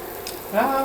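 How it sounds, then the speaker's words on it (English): Food sizzles in a pan over medium-high heat, a steady close frying hiss that swells slightly toward the end. "until you can hear it sizzle"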